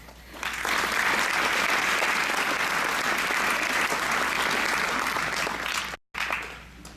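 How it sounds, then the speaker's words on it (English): A crowd applauding visiting royalty at a 2019 Miss Gibbon coronation: dense, sustained clapping that swells quickly, holds steady for several seconds, then breaks off abruptly. "Let's give a round of applause to all of our visiting royalty."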